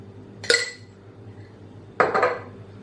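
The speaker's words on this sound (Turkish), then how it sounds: "Ve şimdi karıştırıyorum hepsini." A spoon stirs a chickpea salad in a bowl, giving two distinct clinks and scrapes against the dish about a second and a half apart over quiet background.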